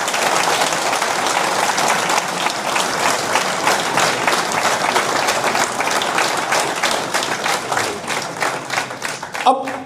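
An audience claps in dense, continuous applause at a speech, steady and fairly loud throughout, with a voice briefly audible near the end.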